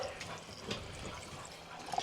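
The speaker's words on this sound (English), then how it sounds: "So now we're going to top them up with water" Water pours steadily into glass jars packed with dry beans, filling them to the shoulder: a soft, continuous trickling and splashing, close by and faint, with no talking.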